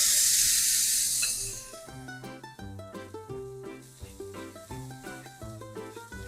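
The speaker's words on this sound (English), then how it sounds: "I do want them to sizzle almost immediately from when I put them on the griddle" Burger patties hit a hot griddle with a loud, bright sizzle for the first second or so, then the hiss fades as music takes over and stays in the foreground.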